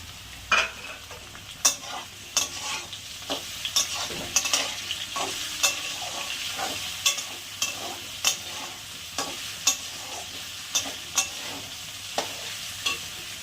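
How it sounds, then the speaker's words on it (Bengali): Chopped ginger and green chilli fry in a pan for a vegetarian tarka, a steady close sizzle punctuated by regular rhythmic scrapes of a spatula, about one every second. "আদা কুচনো আর হলো কাঁচা লঙ্কা কুচনোটা দিয়ে দিলাম।"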